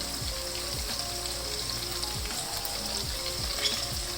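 Chicken sizzles steadily in a karahi as about a cup of whisked yogurt goes in, with rhythmic scraping and stirring strokes repeating throughout over the continuous close frying hiss.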